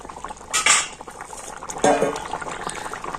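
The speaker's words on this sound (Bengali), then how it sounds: "এবার আমি তরকারি ঢাকাটা খুলে দেখে নেব" A metal lid is lifted off a pot of simmering potato and pumpkin curry, giving two distinct clanks of lid against pot a second or so apart, with a soft bubbling simmer underneath.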